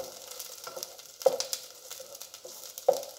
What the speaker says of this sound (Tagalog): kinisa ko na po yung bawang at sibuyas